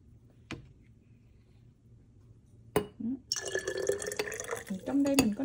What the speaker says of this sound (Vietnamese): Mình tráng cái lọ này